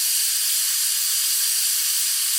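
A pressure cooker of vegetable lentil saaru lets off a steady, loud, high steam hiss that continues unbroken, with no pauses and no voices.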